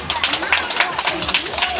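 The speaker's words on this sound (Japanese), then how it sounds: "それではどうぞ大きな拍手をお送りください" Dense, rapid clapping from a crowd at a Halloween costume contest, fairly loud and sustained throughout.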